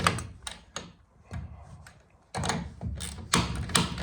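A ratcheting wrench tightening a nylon lock nut on a carriage bolt, building a mobile goat shed, gives close bursts of rapid clicking separated by short pauses, moderately loud with no talking.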